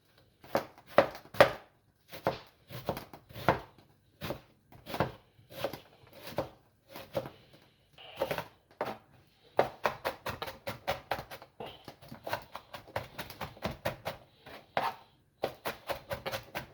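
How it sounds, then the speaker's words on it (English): A knife chopping half an onion finely on a board: rhythmic, crisp taps in short bursts, speeding into a fast steady run of close cuts near the end, with no talking. "to chop half an onion. Fairly finely chopped."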